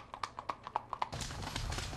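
Gaited horse hooves strike in a steady four-beat lateral rhythm, a series of crisp clip-clop footfalls close by, then give way to a louder broadband rush of noise in the second half.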